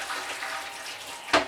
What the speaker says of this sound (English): Strain out the other water.